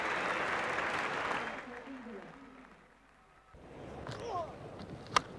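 A test-match cricket crowd at the Sydney ground applauds a beautiful on drive, with broad clapping that fades midway, under a commentator's voice, before crowd noise picks up again with a sharp knock near the end.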